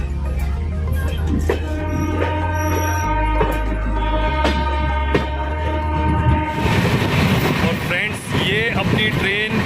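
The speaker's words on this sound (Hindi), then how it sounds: "ये हमारी ट्रेन अपनी लाइन चेंज करती हुई" A passenger special train rumbles and clatters as it crosses points onto another line, with rhythmic wheel knocks, a sustained low drone and rising rattling toward the end.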